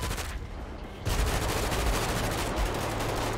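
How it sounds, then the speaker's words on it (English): Rapid bursts of gunfire from a GTA 5 game fill the clip, a dense and loud fusillade of shots with no voices heard. "He's shooting me!"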